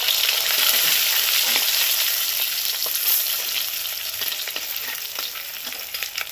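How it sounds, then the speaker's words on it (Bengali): Fish fries crisp in hot oil, a loud, dense, unbroken sizzle with faint crackles throughout, close and without voices. "মাছগুলো একদম কড়া করে ভেজে নিচ্ছি"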